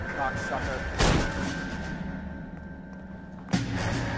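Gunshots in L.A. Noire, two sharp loud cracks about two and a half seconds apart over a low background ambience, with someone talking quietly between them.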